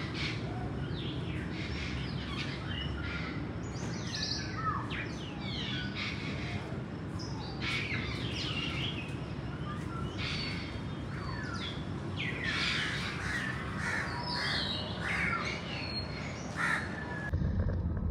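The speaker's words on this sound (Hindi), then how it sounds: "सिर्फ ये आवाज़ सुने परिंदों की।" Crows cawing and smaller birds chirping outdoors, repeated calls scattered throughout over a steady background hum, moderately close and continuous.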